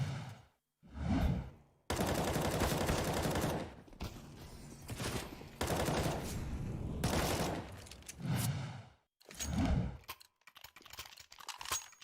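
Several loud bursts of automatic gunfire in a Counter-Strike: Global Offensive match, arriving in separate volleys with short gaps and quieter thuds and clicks between them.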